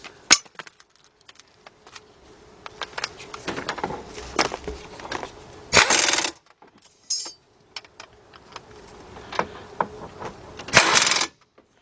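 Metal clinks, ratchet clicks and two bursts of a wrench tightening a front brake caliper bracket on a 2006 Cadillac DTS, close by in a garage, with scattered taps between.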